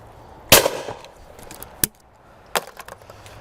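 Shots from a 2025 Blaser FBX shotgun at clay targets, one strong, sharp report followed by two fainter, spaced cracks against quiet outdoor background.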